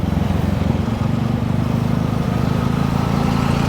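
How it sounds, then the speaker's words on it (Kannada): Motorcycles squeezing through a jammed road in the Philippines, a close, loud, continuous engine drone and rumble with no talking. "ಬೈಕ್ ನುಗ್ಗಿಸ್ಕೊಂಡು ಹೋಗ್ತಾ ಇರೋದು"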